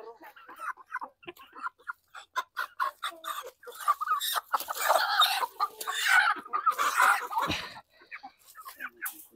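Basilan native chickens cluck and squawk nearby in quick bursts, with people talking over them partway through.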